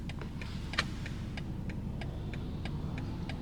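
Steady low engine and road rumble from inside a BMW 228i Grand Coupe on the move, with a regular light ticking like a turn signal clicking over it throughout.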